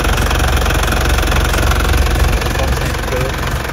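A 1996 Isuzu Panther Grand Royale diesel engine runs close by with a loud, steady, knocking idle rumble throughout.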